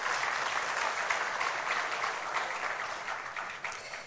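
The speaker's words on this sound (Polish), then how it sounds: "Brawa." Applause from an audience at a school radio award announcement, steady dense clapping filling the whole stretch at moderate loudness with no voices on top.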